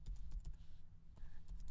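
Keystrokes on a computer keyboard while Python library install code is entered, a quiet run of soft clicks in an uneven typing rhythm, close and low in level with no talk.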